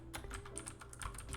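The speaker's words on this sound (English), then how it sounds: "let me just type this in real quick" Rapid, close clicks of keys being struck on a computer keyboard, irregular and quiet, with no voice over them.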